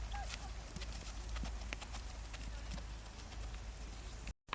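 Hooves thud in a steady, quiet walking rhythm as a horse moves during a riding lesson, heard faintly against a soft outdoor background, with the sound cutting out briefly at the end.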